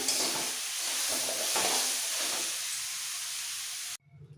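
Cabbage dish frying in a wok gives a loud, steady sizzle with stirring scrapes, then it cuts off abruptly, leaving a quieter background.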